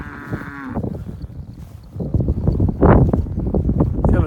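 Cattle on a South Texas ranch, crossbred cows, moo several times close by, with long low bellows over wind noise and rustling.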